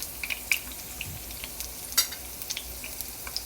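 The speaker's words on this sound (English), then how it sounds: "Hope you enjoy the frying of onions today for the ASMR." Onions fry in hot oil with a steady, close sizzle and a crackle, scattered pops and light stirring clicks over it, alone with no talking.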